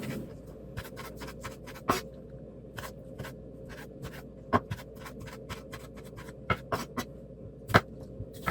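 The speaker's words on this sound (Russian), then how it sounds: "Помидоры тоже берем, нарезаем кубиками." A knife dicing tomatoes into cubes on a cutting board, with a steady run of sharp, close chopping taps at an uneven rhythm and several louder strikes, no voices.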